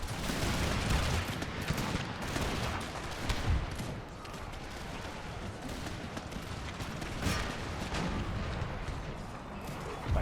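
Massed musket volleys crackle across a chaotic Empire Total War battlefield, dense overlapping gunfire rolling continuously at steady loudness with distant booms, no voices.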